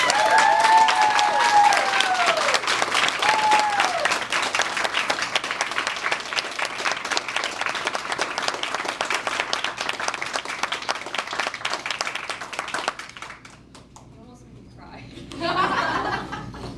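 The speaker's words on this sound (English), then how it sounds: "With warmest congratulations and an incredibly loud round of applause" Audience applause welcoming Taylor Lea Hicks, the 2013 honoree, a long loud burst of clapping with chuckles and laughter mixed in, tapering after about thirteen seconds before a brief swell of voices.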